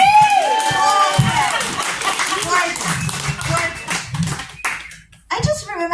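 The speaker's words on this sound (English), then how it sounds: "Everybody applaud this man." An audience at the New Image Brewery in Wheat Ridge claps for a man, with scattered hand claps and crowd noise running under a speaking voice and fading toward the end.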